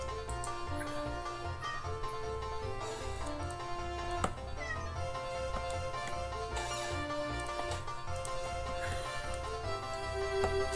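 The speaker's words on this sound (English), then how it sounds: "Cat." A cat meows a few times against continuous, melodic video game music, the meows fairly close but partly blended into the busy musical backdrop.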